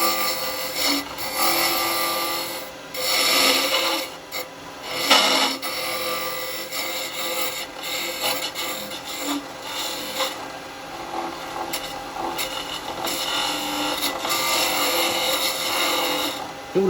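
Wood turning on a lathe while shaping a toothpick holder: a steady, close scraping and rasping of a tool against spinning wood runs throughout, with brief louder bursts and dips as the cut changes.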